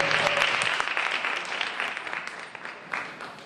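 Audience applause at a keynote on community health workers in Illinois, a steady dense wash of clapping that gradually thins and fades over a few seconds.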